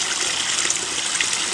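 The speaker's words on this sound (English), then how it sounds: "it's just a flower pot, essentially, where water just flows up in there" Water bubbling steadily up through a disappearing flower-pot fountain with aggregate in its base in a garden, a close, even gushing and trickling that continues throughout.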